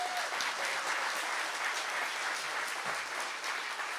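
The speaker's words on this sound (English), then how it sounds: "Huge round of applause for this guy." A live audience at a mindset talk claps loudly and steadily for several seconds, a dense, sustained wash of many hands close to the microphone.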